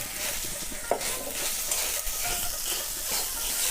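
Tomato, ginger and vegetables fry in a small amount of oil while being stirred in a village kitchen. A steady sizzling hiss runs throughout, with scraping stirs and a sharp clink near the start.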